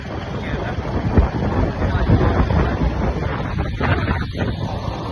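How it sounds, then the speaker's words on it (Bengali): Wind buffets the microphone of a moving motorbike, a loud, continuous rushing roar with gusty swells, under which faint voices can be heard. "চালাচ্ছি বাইক"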